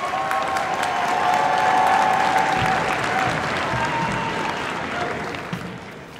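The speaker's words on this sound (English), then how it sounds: "Let's give our third diamond coaches one last round of applause" Audience applause for coaches receiving diamond awards at a national speech and debate assembly, a steady crowd of clapping sustained for about six seconds with some cheering and faint voices underneath, easing slightly toward the end.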